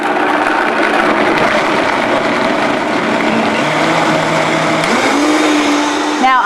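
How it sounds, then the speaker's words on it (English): A Vitamix blender purees almonds with water, a loud, steady whirring motor roar close by that holds constant, then rises in pitch near the end as the blend smooths out, with no talking. "I'm just going to go ahead and blend and puree until the almonds look really fine"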